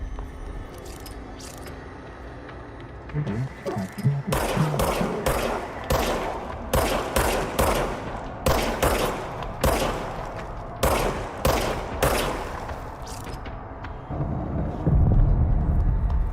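Bursts of gunfire from a gun in the video game Control ring out in a rapid, irregular series of sharp shots, loud and close, with a low rumble building at the end.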